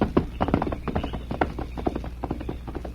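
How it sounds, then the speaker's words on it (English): A white horse's hoofbeats clop away into the night as the rider leaves in an old radio western drama, a quick, uneven run of muffled beats at moderate distance with no talk. "Two Gun watched until the masked man and the white horse were lost in the night"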